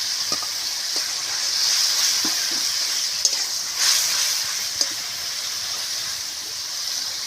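Onions and green chillies fry in a pan with a constant, even sizzle, punctuated by a few sharp clicks and scrapes of stirring; no one speaks.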